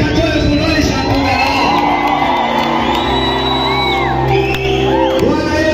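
A church crowd at a night vigil cheers, shouts and ululates, loud and continuous from start to finish, with high trilling calls rising over the dense roar and some voices mixed in.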